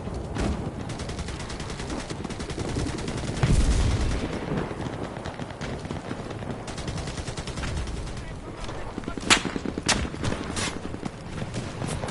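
Gunfire in the World War II shooter Enlisted during a battle: a steady rumble of distant shots and battle noise, with a few sharp, louder cracks near the end and voices speaking over the din.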